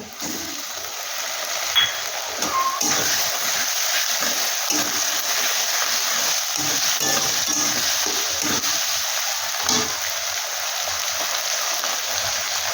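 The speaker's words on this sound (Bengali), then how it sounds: "দিয়ে দিলাম আদা আর রসুন বাটা" Chicken frying in a pan with ginger and garlic paste, a steady broadband sizzle continuing throughout with faint scattered pops, close and fairly loud, no talking.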